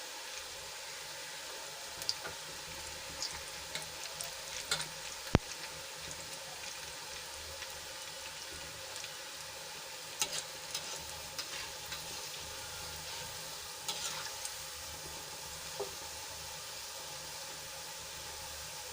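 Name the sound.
kumbhaniya bhajiya fritters frying in oil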